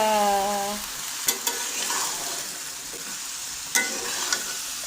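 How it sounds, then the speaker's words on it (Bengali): Boiled pasta tossed into cooked meat in a pan, a brief initial tone giving way to steady sizzling with a few sharp spatula scrapes and knocks, close by. "এখন যেহেতু মাংস কষে গেছে তো এর মধ্যে দিয়ে দিচ্ছি সিদ্ধ করে রাখা পাস্তা"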